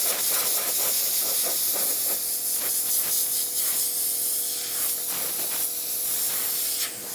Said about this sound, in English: I'll grab some compressed air and blow that moisture out of there